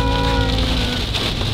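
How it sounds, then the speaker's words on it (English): Steady heavy rain pouring down and drumming on a surface, a dense continuous hiss with no voices. "Oh, that's real heavy rain."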